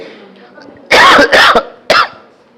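A loud burst of harsh coughs, two close together then one more after a pause, close to the listener.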